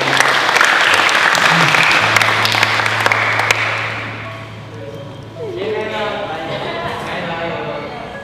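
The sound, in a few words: audience applause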